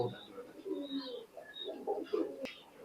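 KTM teddy pigeons coo in a low, rolling murmur, a pair among other birds kept for sale, with a few higher chirps and a voice talking over them.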